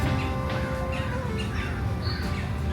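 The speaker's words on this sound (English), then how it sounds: "These are the types of birds that are in this enclosure." Birds call continuously in a rainforest enclosure at a safari park, with loud, dense overlapping chirps, caws and squawks over a steady background hum and no talking.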